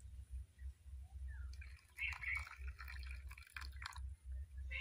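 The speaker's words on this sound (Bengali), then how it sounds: "এবার আমি এর মধ্যে দিয়ে দেব ফুটন্ত গরম জল" Boiling hot water is poured into a batter of broken rice for milk chitoi pitha, a faint, brief splashing trickle over a low steady hum in a quiet kitchen.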